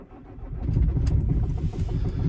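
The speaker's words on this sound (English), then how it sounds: "Let's have a cold start." Cold start of a Kia Venga engine at minus five degrees: a quick cranking rush that catches and settles into a steady, close, slightly uneven idle rumble.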